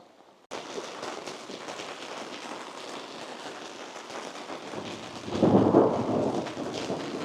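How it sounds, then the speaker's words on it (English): Steady rain falls around a campsite in the Ouachita Mountains, a continuous hiss with a deeper rumble of thunder swelling near the end. "Let you listen to the rain for a little bit with me."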